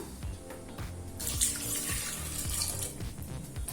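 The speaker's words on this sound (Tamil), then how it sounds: "இப்ப வேகிறதுக்கு தேவையான அளவு தண்ணி சேர்த்துக்கலாம்." Water runs from a tap into a cooking pot holding pidi karunai yam for kara kulambu, a steady splashing, filling stream that swells partway through and stays close and continuous, with no talking.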